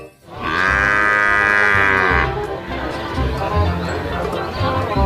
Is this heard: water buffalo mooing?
yes